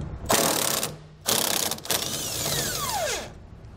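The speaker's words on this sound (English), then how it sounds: "We're removing these nuts using an 18 millimeter socket." Hand ratchet with an 18 mm socket turning leaf spring nuts on a 2017 Grand Design Reflection trailer, with two bursts of rapid clicking and then a longer stretch of clicking with a rising creak, close and clear.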